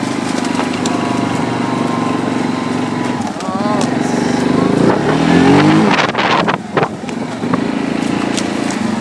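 A Yamaha Grizzly 700 ATV engine revs up and down with the wheels spinning loose, a throaty close engine note rising and falling, with someone talking over it.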